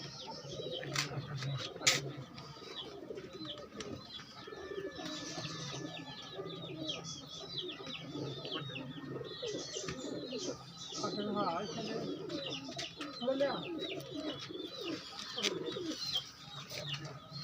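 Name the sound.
pigeons cooing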